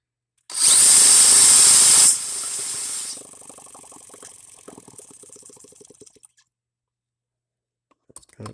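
An H76 Microcosm twin-cylinder model engine runs loud and high-pitched at wide open throttle, then drops to a lower idle that sputters and fades to silence, with a few clicks at the end.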